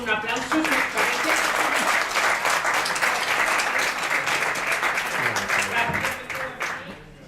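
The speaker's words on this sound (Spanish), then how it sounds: "acabamos con un aplauso" An audience at a talk on religious identity and adolescence gives a sustained round of applause, dense and steady for several seconds before thinning out at the end.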